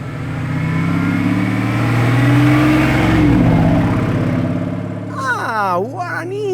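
Lamborghini Revuelto V12 engine pulling past at a car-spotting location, a loud sustained roar that swells and fades over several seconds while a person talks over it.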